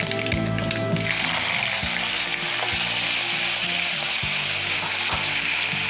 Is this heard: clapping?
no